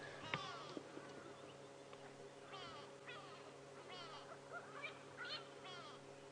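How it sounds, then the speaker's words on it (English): Several harsh, nasal grey go-away bird calls sound repeatedly at a distance over a steady outdoor hum on a morning safari drive, coming in uneven bursts every second or so. "I think the most dominant sound is the go-away birds"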